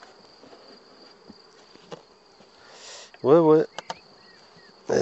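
Honey bees around one of eight working beehives, a faint low buzzing in a quiet outdoor setting, broken by a short spoken word and a few soft knocks.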